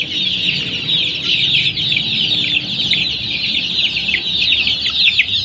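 Dense, continuous high chirping and clucking from many 21-day-old chicks close by, a busy flock sound with no pauses.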